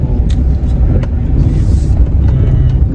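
A car rolls over a rough dirt road on the way to Perch Dam near Chandigarh, with a constant loud low rumble from inside the cabin and occasional knocks and rattles.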